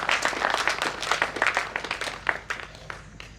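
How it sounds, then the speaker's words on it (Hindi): A small group of poets on a stage clap together at a kavi sammelan in honour of the audience, a few seconds of uneven, moderately loud handclaps that taper off at the end. "मेरे मंच के सारे कवि लोग इन श्रोताओं के सम्मान में एक बार ताली बजाएं"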